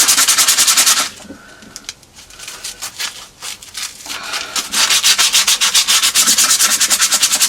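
Coarse 80 grit sandpaper scrubs over a rusty wheel in fast, rhythmic back-and-forth strokes, loud and close, pausing briefly midway with lighter scraping before the vigorous rubbing resumes.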